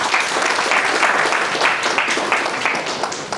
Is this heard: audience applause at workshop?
yes